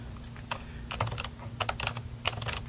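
Fingers tap a password onto a computer keyboard in quick irregular bursts of keystrokes, close and clear, over a faint steady hum with no one talking.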